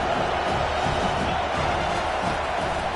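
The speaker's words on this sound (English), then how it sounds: "Listen to this crowd just shaking the girders of this place" A dense stadium crowd roars steadily in the College Football 25 video game, a constant loud wash of cheering with no breaks.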